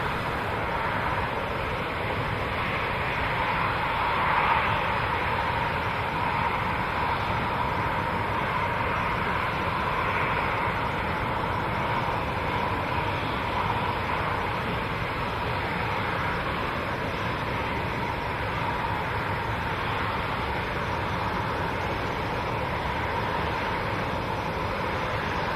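Aircraft at an airshow taxiing toward the runway threshold, including a Danish F-16 in a special paint scheme and an Irish PC-12, heard as a steady, broad jet and turboprop roar that holds fairly constant throughout.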